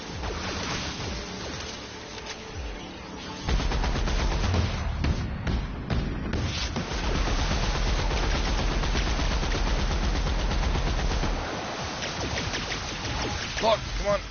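Gunfire roars through a firefight in The Outer Worlds video game, with dense, sustained bursts of rapid shots and heavy booms layered over loud combat noise, and a voice briefly speaks over it.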